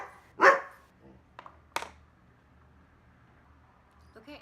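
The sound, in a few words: dog barking at the window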